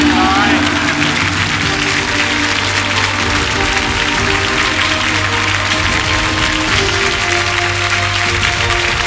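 Studio audience at an Iron Chef Thailand cooking battle bursts into loud, sustained applause as the round ends, a dense continuous rattle of clapping with a host talking over it.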